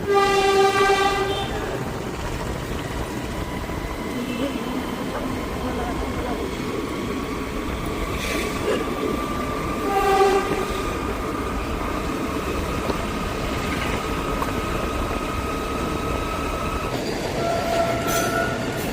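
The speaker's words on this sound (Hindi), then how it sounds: "सामने जा रही है ट्रेन" A train passes near the Raiwala army canteen with a loud, steady rolling rumble and wheel noise, and horn blasts at the start and end, close and continuous.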